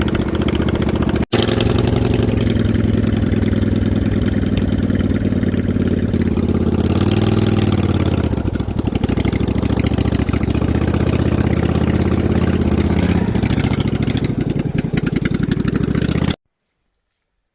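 A snow mower engine runs steadily at idle, a loud, even mechanical rumble with a brief dip near the start, continuing unbroken until it cuts to silence at the end.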